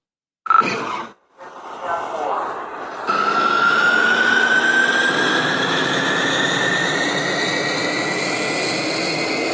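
An A-4 jet's engine drones steadily on an aircraft carrier deck in a flight video game, a loud continuous roar with a rising whine that starts after a brief burst and holds for the rest.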